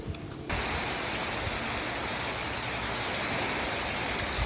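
Rain starts abruptly and then falls steadily and densely as a loud, even hiss close by, holding without a break to the end.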